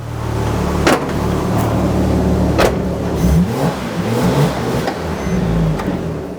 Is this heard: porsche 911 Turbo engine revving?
yes